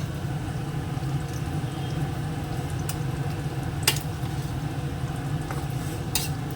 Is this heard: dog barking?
no